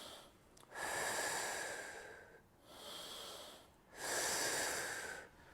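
Slow deep breaths from the diaphragm: two long airy inhales and exhales, close and fairly loud, with a short pause between them, no talking.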